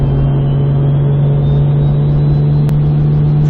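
A loud Toyota Supra engine while driving, giving a steady deep drone with a strong low hum, close and continuous, with no talking.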